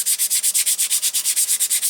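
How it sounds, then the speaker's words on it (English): Light, rhythmic strokes of a small foam sanding pad on an acrylic ornament, about fifteen quick, even rubbing passes, close and soft, with no talking. "this is just a little foam sanding pad"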